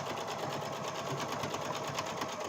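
A sewing machine back stitches through bag fabric, its needle chattering in a fast, steady, even run close by with no pause.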